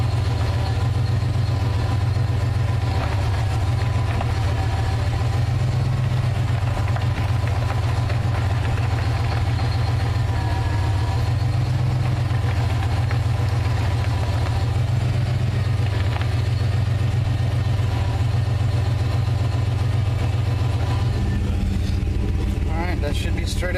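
1995 Chevrolet Suburban engine idling steadily nearby, a constant low rumble that runs almost the whole time, with a person talking over it and handling noises at the end.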